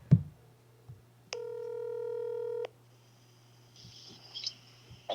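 A telephone call being dialed during a radio call-in show: a short click, then a loud steady multi-tone beep held for over a second, followed by faint line noise and a low hum.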